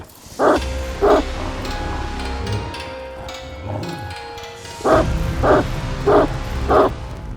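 A dog barks in sharp bursts, two barks, then a pause with background sound, then four evenly spaced barks, fairly close and loud.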